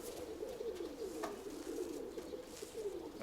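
A pigeon cooing close by, a soft repeated throaty coo in a continuous rolling phrase over faint background hiss.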